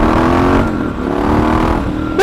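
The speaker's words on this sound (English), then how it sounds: "Let's do some revs, shall we?" A Triumph Scrambler 1200 motorcycle engine revving steadily and loudly up close, a sustained throaty drone with a sharp rising rev burst at the very end.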